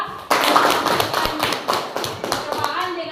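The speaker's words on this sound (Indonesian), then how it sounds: "tepuk tangan untuk kelompok 2" A classroom of children applauding group 2 after their lava lamp experiment, a sudden burst of dense hand clapping with scattered taps that carries on steadily for a few seconds, with children's voices mixed in.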